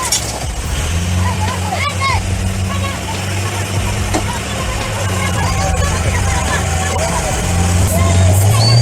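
A tractor pulls under heavy strain, its deep, steady engine drone growing slightly louder toward the end, mixed with a crowd of voices and scattered high chirps.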